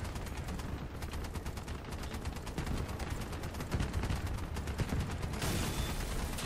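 Rapid, continuous automatic gunfire from vehicle combat in the game Crossout rattles on without pause at moderate loudness, dense and unbroken throughout.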